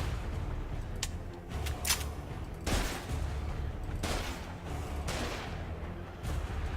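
Bursts of weapon fire from a powerful gun in the video game Osiris: New Dawn crack out in several separate shots and short volleys over a steady background rumble, loud and close with no talk.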